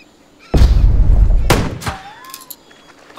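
Gunfire in the video game Jagged Alliance 3: a few loud, sharp shots, the first at about half a second and two more close together around one and a half seconds, each with a decaying tail.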